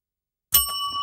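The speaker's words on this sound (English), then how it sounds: "just ring that bell every time this sounds like Mandis to you" Single bright bicycle-bell ding struck after silence, close and clear, its metallic tone ringing on and slowly fading.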